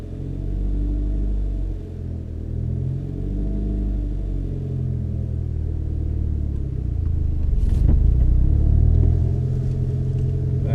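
A manual-transmission car's engine hums low and steady, then rumbles as it pulls away while the clutch is released, close and continuous with no talk.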